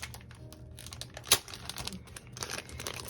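Child-proof packaging being opened by hand with crinkling, rustling plastic, including one sharp crackle partway through and steady close rustles after, from a fountain pen ink haul.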